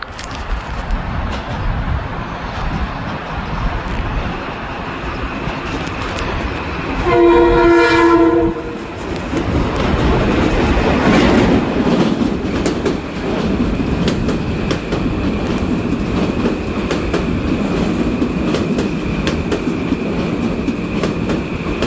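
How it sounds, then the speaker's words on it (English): Metro-North and Amtrak trains rumble loudly through New Rochelle station, wheels and cars roaring steadily close by, with a single long blast of the train horn partway through. "We're gonna see another Metro North train"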